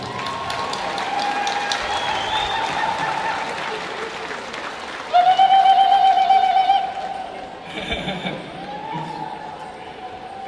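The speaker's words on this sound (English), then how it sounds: "Let's give him a round of applause." Audience applause at an Aboriginal culture folklore festival after a traditional warrior dance, a steady crowd clapping running throughout with loud whistles and horn-like honks rising over it midway.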